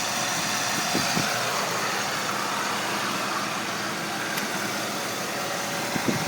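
A 2004 Dodge Ram Quad Cab SLT with the 4.7 engine idles steadily nearby, giving a constant broadband rumble and hum with a few faint knocks, and no speech.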